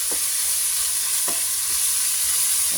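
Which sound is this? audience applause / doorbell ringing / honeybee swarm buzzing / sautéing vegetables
sautéing vegetables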